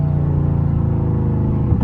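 A Dodge Charger Scat Pack engine, a deep, loud, steady rumbling drone heard from close inside the car, with no talk.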